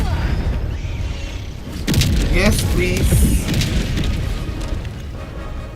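Orbital strike explosions land in the Helldivers 2 shooter game: a heavy booming blast rumbles out after about two seconds, followed by crackling debris and a lingering low roar amid game noise, with a voice speaking briefly.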